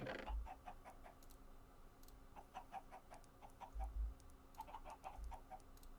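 Chickens cluck in a blocky survival video game, short repeated bursts recurring in small clusters over a steady low background hum, with no talking.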